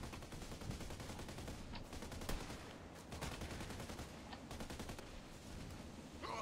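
Gunfire in the Contract Wars shooter, a steady stream of rapid shots and bursts with a few sharper cracks standing out, continuous for several seconds with little talk.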